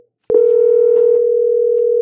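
A steady Skype for Business dial tone begins after a click and holds loud and even, with faint clicks near the start.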